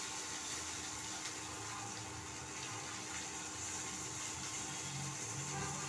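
Hot oil spatters steadily in a pan while food fries, a continuous close crackling hiss with faint watery bubbling underneath and no voices.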